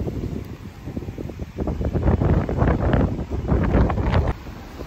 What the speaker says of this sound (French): Il y a un vent les gars, mais je pense que vous l'entendez